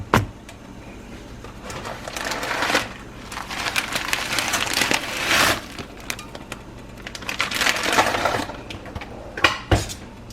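Dry noodles tipped into a metal pot on the stove, a loud rattling clatter in several bursts with a sharp clink near the end, close and alone without talk.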